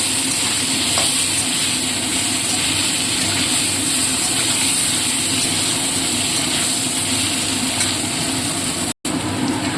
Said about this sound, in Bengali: এবার আলুগুলো ভালো করে ভেজে নেব।